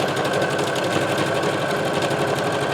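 Sewing machine stitching lengths of fabric scraps, a loud, fast, steady mechanical whirring with rapid needle chatter running continuously, close up with no talk.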